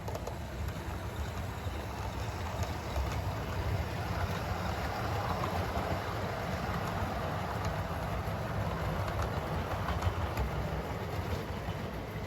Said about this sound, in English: back to running some trains here